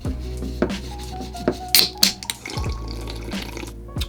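A drink can being wiped with a cloth or hand, close-up rubbing and squeaky friction strokes in short irregular bursts over a steady low hum, with no talk.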